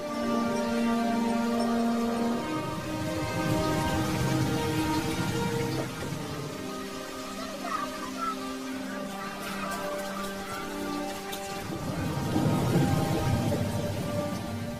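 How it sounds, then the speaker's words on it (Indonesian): Heavy rain pours steadily in a film scene, a dense continuous patter of drops on surfaces with a faint low rumble like distant thunder beneath, alongside sustained musical tones. "hujan pun turun dengan sangat lebat"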